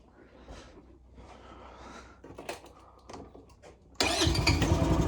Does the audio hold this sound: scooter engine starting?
yes